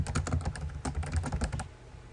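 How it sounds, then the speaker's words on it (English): Rapid, continuous typing on a computer keyboard while writing a forum message, a dense run of close, crisp key clicks that stops abruptly near the end. "You just type out your message here"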